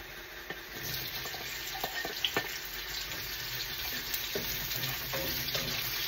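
Onion sizzles in a pan of Pancit Bihon in a home kitchen, a soft, even frying hiss punctuated by a few faint clicks and scrapes, with no talking.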